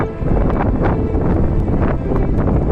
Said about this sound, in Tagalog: Uy, mahangin uy.